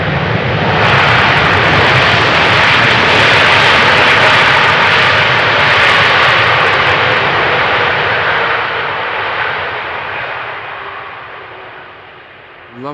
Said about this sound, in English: Lovely spooling down sound when the reversers are no longer being applied.